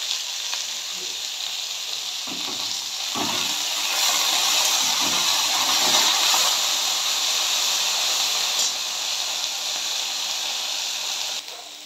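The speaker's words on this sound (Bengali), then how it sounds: "তেলটা আমার গরম হয়ে গিয়ে এবার আমি আলুটাকে সবার আগে ভেজে নেব" Potatoes fry in hot oil with a steady, loud sizzle and hiss that swells slightly midway, with occasional soft stirring knocks and no talking.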